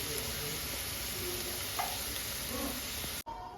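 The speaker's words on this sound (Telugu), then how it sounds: "హాఫ్ స్పూన్ పసుపు వేసుకోవాలి వేసుకొని బాగా కలుపుకోవాలి" Aloo kurma with half a spoon of turmeric is stirred in a hot pan. A steady, close sizzle runs throughout with faint scraping from the stirring, then cuts off abruptly at the end.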